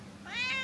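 A cat gives one drawn-out rising meow, fairly close and clear over a quiet background.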